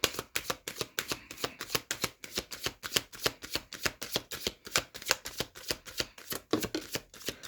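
Tarot cards shuffled by hand in a steady, rapid riffling rhythm of dry papery bursts, close and clear, with no talking over them.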